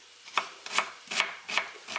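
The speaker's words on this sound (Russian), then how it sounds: "возьмем лучок, нарежем его 1/4 кольцами" Knife chopping an onion into quarter rings on a board: five steady, crisp cuts about every 0.4 seconds, close and fairly quiet, with no talking.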